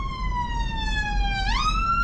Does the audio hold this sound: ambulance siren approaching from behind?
yes